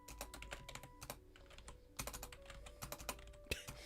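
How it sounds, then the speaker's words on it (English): Someone types on a computer keyboard in quick, uneven bursts of crisp key clicks, with occasional heavier thumps of larger keys, close and fairly quiet. "Jeez, I'm a real good typer, aren't I?"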